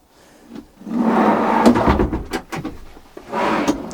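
Wooden drawers in a converted Mercedes Sprinter camper van slide open and shut, a few knocks and rattling clunks close by with sliding rumbles between them.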